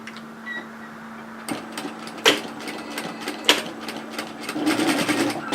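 A sewing machine stitches a 1 centimetre seam on a woven kimono robe, starting with a few separate clicks and taps and then building into a steadier run of stitching near the end, close by, without talk.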